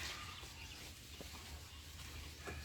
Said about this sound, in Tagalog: Ayan, may mga manok na umiiyak.